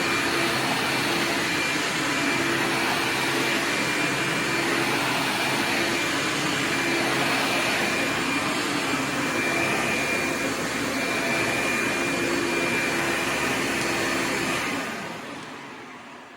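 A steady, even motor roar with a broad airy hiss from a Hoover PowerDrive Supreme upright vacuum cleaner holds for most of the clip, then fades away near the end.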